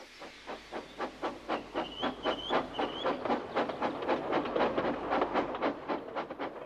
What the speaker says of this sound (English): James was able to pull the train